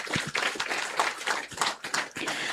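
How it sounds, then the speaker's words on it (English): Audience applause at a public event marking the International Day Against Drug Abuse in Shillong, a loose scatter of hand claps of uneven rhythm from a smallish crowd, moderately loud, with no talk. "can we have a big round of applause?"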